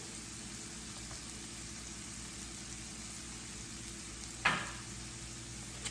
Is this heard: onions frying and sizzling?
yes